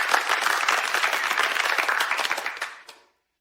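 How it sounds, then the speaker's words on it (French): Wedding guests applaud the groom, Monsieur Lin Feng, in a lively burst of many hands clapping close by, sustained for about three seconds before cutting off abruptly. "accueillons par des applaudissements Monsieur Lin Feng"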